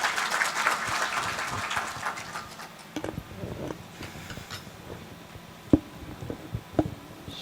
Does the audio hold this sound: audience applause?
yes